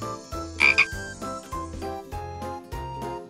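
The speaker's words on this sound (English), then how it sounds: "they make funny croaking sounds" Several deep, throaty frog croaks repeat in uneven bursts, loud and close, with a brief high tinkling ringing early on.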